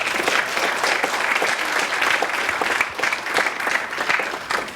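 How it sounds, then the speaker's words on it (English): An auditorium audience at a conference's closing remarks applauds postdocs and PhD students: loud, continuous, dense clapping from many hands, holding steady across the whole stretch with no speech. "Please give them a applause."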